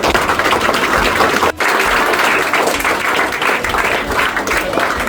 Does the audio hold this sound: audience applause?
yes